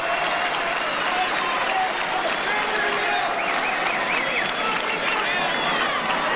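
Thousands of wrestling fans at the Halifax Forum roar with steady applause and cheering through a 1984 AWA title match, a dense, continuous crowd wash with no break.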